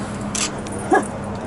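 A dog at an outdoor table in Fort Langley gives a short high whimper and a brief yip, close by over quiet background murmur.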